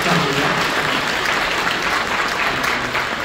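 A church congregation applauds loudly and continuously to celebrate a newborn child's blessing, a full, dense clapping sound with no pauses.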